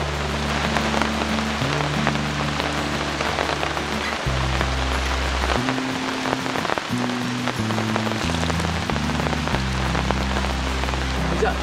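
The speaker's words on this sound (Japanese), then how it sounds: "めちゃくちゃ雨降ってきたんですよ。" Heavy rain pours steadily on a campsite, a dense continuous hiss of drops drumming on surfaces, with a low sustained tone running underneath throughout.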